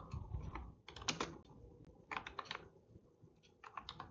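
Code being typed on a computer keyboard, with quick bursts of close, clicky keystrokes separated by short pauses.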